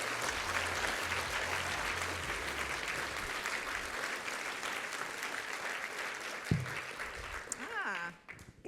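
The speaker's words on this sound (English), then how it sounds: "A huge round of applause." Audience applause at an engineering award ceremony for young women, a sustained dense wash of clapping from a large crowd that thins near the end as a voice begins speaking.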